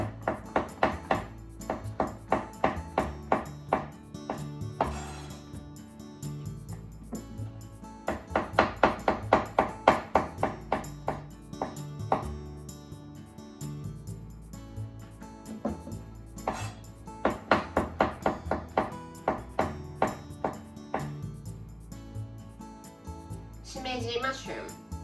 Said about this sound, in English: Let's make thin slices.